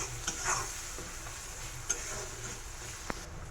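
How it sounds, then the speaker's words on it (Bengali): Onions with green chillies, salt and turmeric frying in a pan, a faint steady sizzle with a few soft utensil taps, quiet and close. "এখন একটু ভালো করে এগুলোকে ভেজে নেব"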